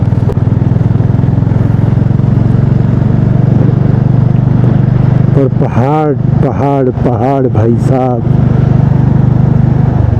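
Motorcycle engine droning steadily on a mountain road between Nako and Kaza, with someone talking loudly over the constant ride noise.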